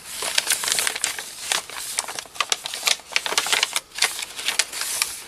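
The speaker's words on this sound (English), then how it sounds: "I punched out a butterfly on the front piece" A paper punch snaps through cardstock to cut a butterfly shape for a vintage writing junk journal, giving a run of sharp, close clicks and crisp paper crinkles in an uneven rhythm with no talking.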